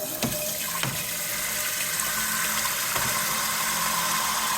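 Cold water runs from a tap as it is poured for pickle brine, a steady loud gushing stream with a few clunks near the start, no voices.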